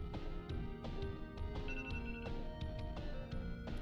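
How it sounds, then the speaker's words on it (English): A cell phone rings with a repeating electronic melody of bright, bell-like tones, moderately quiet and steady for several seconds with no voices over it. "Cell phone goes off."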